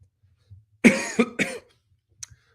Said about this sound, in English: Apologies in advance if I'm coughing occasionally throughout.